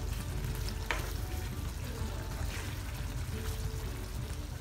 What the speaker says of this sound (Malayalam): നന്നായിട്ടൊന്ന് ഇളക്കി നമ്മൾ ഒന്നുകൂടെ വേവാൻ വേണ്ടിയിട്ട് വെക്കുകയാണ്.